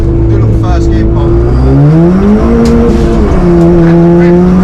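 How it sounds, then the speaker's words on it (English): A Ford Fiesta ST with Revo Stage 2 tune, 250 bhp, revs hard and climbs in pitch through first gear, loud and close, with a brief tire squeal and a voice briefly audible. "Do a little first gear pop."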